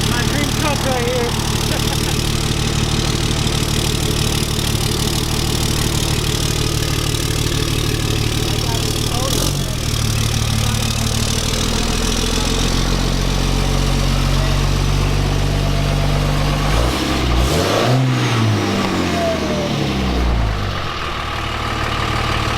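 A newly purchased truck's engine idles in a low, steady rumble up close, then revs sharply once near the end before settling, with people chatting over the motor.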